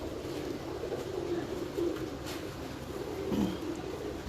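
Pigeons coo in a loft, faint low rolling calls over constant background noise, with a few slightly stronger coos near the end.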